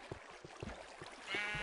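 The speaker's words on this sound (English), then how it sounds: "No, it's not a skeleton. Those are sheep." Sheep bleat in the Minecraft video game, several quick overlapping bleats close by against a faint background hum.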